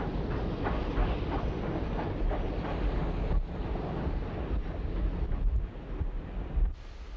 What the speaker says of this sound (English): We have a bird's eye view of the train as it snakes its way toward Lillooet.